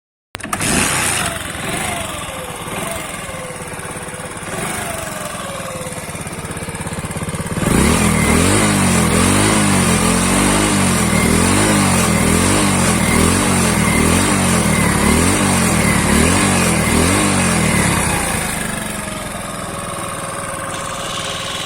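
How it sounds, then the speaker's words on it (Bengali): A Hero 100cc motorcycle engine starts up and settles into a loud, close, steady running chug that lasts several seconds before easing back to a quieter idle. "বাইকটি স্টার্ট করে একটু সাউন্ড শোনাই আপনাদের"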